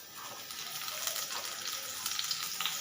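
Chopped onions hitting hot cooking oil in a pan, a bright steady sizzle with crackling pops and a faint scrape of stirring, no talk over it.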